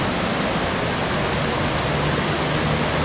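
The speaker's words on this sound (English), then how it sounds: "A little bit better view of the water flowing" Kakabeka Falls in Ontario, Canada, pouring downstream as a steady, loud, broadband rush of water with no break and no voices.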